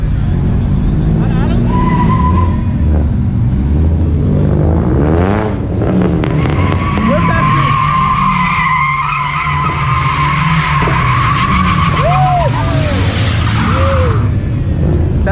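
At a Miami car meet, a truck drifts with long, loud tire screeches rising and falling over a revving engine, with crowd voices and shouts mixed throughout.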